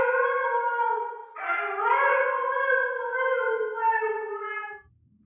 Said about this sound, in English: Makes your guitar sound like a dog.